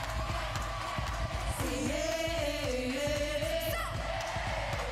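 A large concert crowd at One Love Manchester sings along with a song, a massed, sustained chorus of voices rising over steady crowd noise with cheers and whoops.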